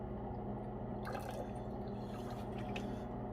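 Distilled water is poured into a vessel during gold recovery from pins, giving a faint, quiet trickle with a few soft splashes, close by and with no talking.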